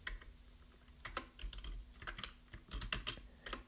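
Rapid, uneven clicking of keys as code is typed on a computer keyboard, close and fairly quiet, with bursts of keystrokes and brief pauses and no talking.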